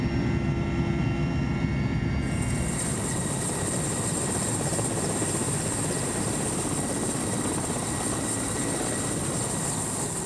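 Loud, continuous helicopter rotor and engine roar, close and steady, filling the whole stretch without pause.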